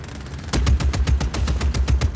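Video game gun firing a rapid burst of roughly a dozen sharp, evenly spaced shots that start after a brief quiet pause, loud and close with no talking.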